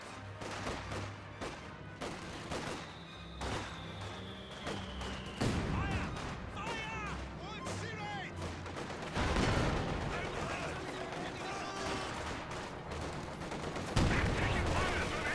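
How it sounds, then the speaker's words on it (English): Company of Heroes 2 battle sounds with a Pak 40 anti-tank gun firing amid repeated gunshots, artillery thumps and explosions, loud and dense throughout, with sharp blasts standing out; no speech heard. "Pack 40 does connect onto the T-34 85."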